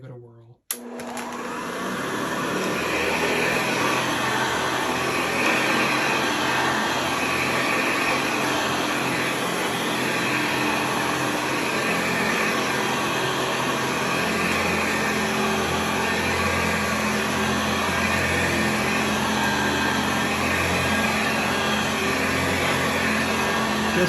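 A Hoover Convertible 704-01 upright vacuum cleaner switches on with a click and settles into a loud, steady motor whine and airy roar on high while run over carpet, holding constant for over twenty seconds.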